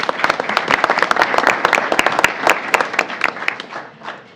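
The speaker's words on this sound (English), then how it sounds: "another round of applause to our seniors of the month" Applause for a school board's seniors of the month, a crowd clapping steadily with dense, crisp hand claps that fade slightly toward the end.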